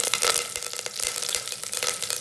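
Urad dal, mustard seeds and curry leaves frying in oil in an Instant Pot give a steady, dense sizzle with crackling pops throughout, close and fairly loud, with no talking.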